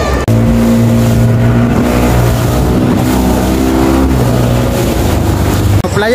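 A motorboat gives a short paid ride off Playa Las Palmeras, a busy palm-lined beach in Mara, Zulia, Venezuela; its engine roars loud and close throughout with a steady droning hum and shifting pitch.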